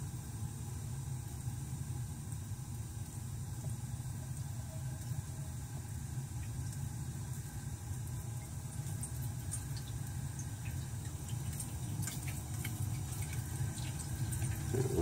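A Taco VT2218 Delta T circulator pump in a hydronic heating system hums quietly and steadily as water begins flowing through the piping, with a faint continuous low whir and some light rushing texture, no talking.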